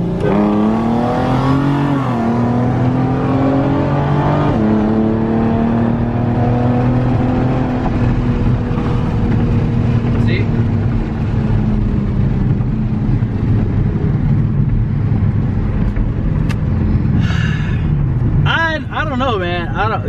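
A Ford Mustang V6 with full bolt-ons drag racing a stock 4.6 Mustang GT, engines revving and accelerating hard with rising pitch, loud and sustained over about twenty seconds, with people talking around them.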